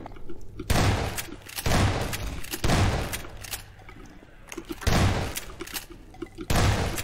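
Five or six loud single gunshots ring out in Half-Life 2, spaced roughly a second apart, each a sharp close crack with a short reverberant tail.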